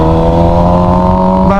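A motorcycle engine idles steadily with a strong low, even hum, held close and loud at a stop sign before a race-start launch, rising slightly near the end.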